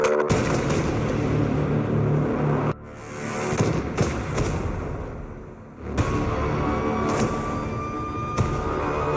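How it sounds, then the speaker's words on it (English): A Russian-made DXL-3 sniper rifle fires .338 armor-piercing rounds, with two loud, sharp blasts followed by short fading echoes, heard close and with no talking. "we will test a DXL-3. It's Russian-made sniper rifle."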